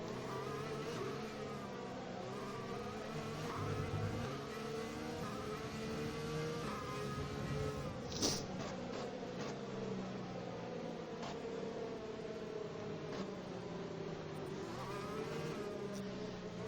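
An F1 2020 racing car engine from the video game hums along at a restrained, steady pitch while held behind the safety car, with sustained whining harmonics that waver gently up and down and one brief sharp click midway.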